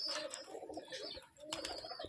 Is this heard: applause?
no